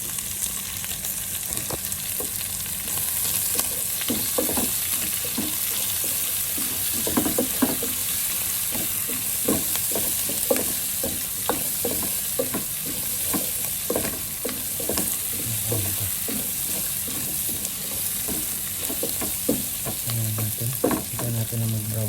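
Garlic sizzles steadily in a frying pan while a utensil stirs and scrapes through it in repeated clicks, hissing close and continuous throughout.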